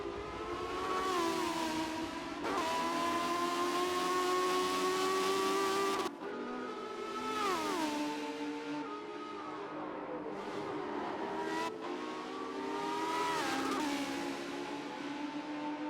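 Race cars lapping Brands Hatch during a motorsport heritage festival, engines rising and falling in pitch as they pass through the forest section, a steady loud drone with several pass-bys and no talk.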